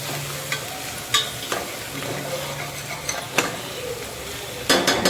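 Masala rice with garam masala stirred in a pan, a steady frying crackle broken by scraping strokes and a few spoon knocks against the metal, ending in a burst of louder clatter.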